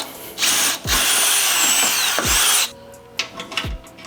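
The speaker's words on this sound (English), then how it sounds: "we're gonna drill this hole out to a 3/8." A power drill bores out a hole to 3/8 inch during a rear bumper build for a 4th gen Toyota 4Runner, whining loudly in two long bursts close by, followed by quieter clicks and handling noises.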